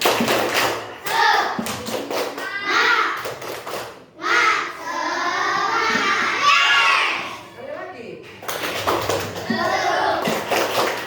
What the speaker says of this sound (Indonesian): 2 kali tepuk semangat